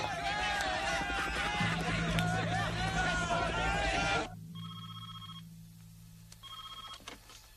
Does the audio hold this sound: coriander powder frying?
no